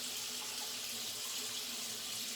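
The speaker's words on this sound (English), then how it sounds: "Just gonna rinse off and I'll be back." A tap runs steadily into a sink while someone rinses off after a wet shave. It is a faint, continuous hiss of flowing water with no talk.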